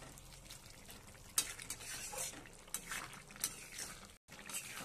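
A spoon stirs fish curry thickened with mustard paste in a pan, scraping and clinking against the metal in irregular strokes with a light sizzle beneath, fairly quiet and close.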